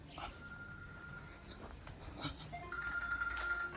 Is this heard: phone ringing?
yes